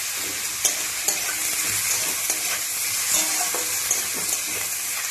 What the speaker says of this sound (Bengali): গাজর, বিনস আর আলু, মূলো, নেড়ে নেব।